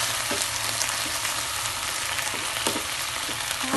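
Chili peppers fry in a hot pan for tuna sisig, giving a steady close sizzle with a few faint stirring clicks and no talking.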